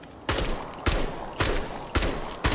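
Gunshots from the video game Outpost Infinity Siege ring out as five sharp, loud reports at roughly half-second intervals, each with a brief ringing tail, with no talking over them.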